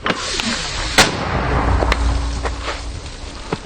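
A single sharp gunshot cracks in the distance during combat on the Bakhmut front, followed by a few fainter thuds over steady wind and rumbling noise.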